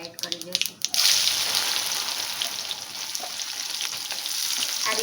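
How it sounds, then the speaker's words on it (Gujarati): Mustard seeds and cumin spluttering in hot oil for a tempering, with a burst of crackling pops at first that settles into a continuous, close hiss of frying. "રાઈને તતડવા દઈશું. પછી જીરું એડ કરીશું અડધી ટીસ્પૂન જેટલું, ને હિંગનો વઘાર કરીશું."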